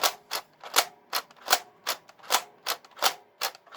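Savage Spin toy dart blaster's pusher mechanism cycling in a rapid, steady series of about a dozen sharp mechanical clacks, close and crisp, with no talk.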